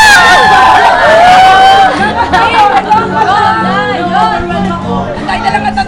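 A lively crowd at a gathering shouts and cheers together, a dense wall of excited voices and whoops that stays loud throughout, with some individual calls rising above the roar.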